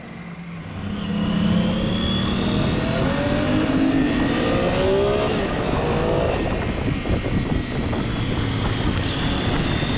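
A Triumph Tiger 800 motorcycle engine drones steadily and rises in pitch as it accelerates, with strong wind rush over it and no talking.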